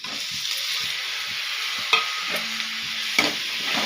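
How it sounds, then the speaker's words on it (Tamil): Onions and tomatoes frying in a pan, a loud continuous sizzle with a couple of sharp utensil knocks against the pan. "தக்காளி நல்லா வதங்கட்டும்."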